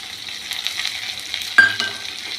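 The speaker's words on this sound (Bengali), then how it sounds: "আমি বেশ করে সুন্দর করে চালটা ভাজা ভাজা করবো আর কি" Gobindobhog rice grains frying in a pan over medium heat while being stirred, a steady soft sizzle with scraping stir sounds and a sharper burst of sizzling and clatter near the end, no voices.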